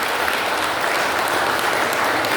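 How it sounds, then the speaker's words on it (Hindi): Loud, steady applause from an audience at a yoga session fills the whole stretch, dense clapping with no break and no voices standing out. "एक बार जोरदार ताली लगा दिया जाए सबसे"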